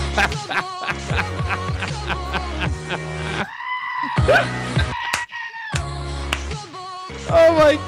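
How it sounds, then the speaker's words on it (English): A goat bleats inside a song: loud, warbling, scream-like bleats come in bursts over a rhythmic musical backing with some pauses between them. "That is a ridiculous sound to come out of a goat."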